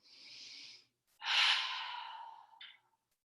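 Slow, soft breathing during a yoga stretch: one long gentle inhale, a pause, then a longer fuller exhale trailing off, close and quiet with no talk.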